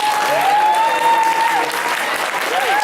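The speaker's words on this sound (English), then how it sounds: "let's just do one big round of applause for everybody" Loud, close applause fills a hall at the FutureCity final, dense continuous clapping with a few whoops and whistles rising above it.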